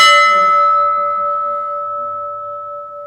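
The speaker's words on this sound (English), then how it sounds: "The bell still rings. Are you ready? Because it can be quite loud." Historic Abana lifeboat bell struck once, loud and close, its clear tone ringing on with a long, slowly fading sustain and no voices.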